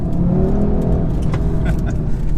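An Audi RS3 engine revs hard under acceleration, a loud, steady, close drone that holds strong throughout with no talking.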